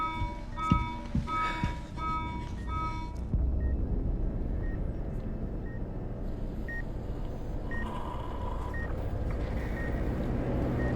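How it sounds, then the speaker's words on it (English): Alarm in the video game Resident Evil Requiem, a steady pattern of short repeating electronic beeps over a dense low rumbling background, sounding continuously. "Before Gideon can fully explain his mission to Grace, he is cut off by an alarm"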